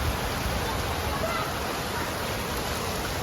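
Heavy pre-monsoon May downpour pouring near a house gallery and terrace, a dense, even hiss that stays loud and unbroken throughout.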